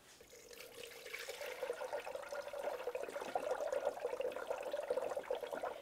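Coolant pours from a bottle into the coolant reservoir of a Ford Explorer under the hood, a soft steady trickle and gurgle that rises slightly as it goes on, quiet and close with no voices.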